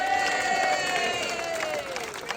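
Crowd noise at a Swindon rally against 15-minute cities, clapping and cheering for a speaker, a broad wash of applause with a sustained voice-like cheer gliding downward over it, steady and fairly loud throughout.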